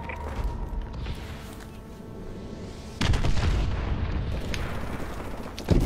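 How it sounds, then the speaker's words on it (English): Friendly missile strikes land in a multiplayer shooter game on a hardpoint map, a sharp boom at about three seconds opening into a sustained rumbling barrage of explosions, with a final loud burst at the end. "Friendly missile strikes inbound."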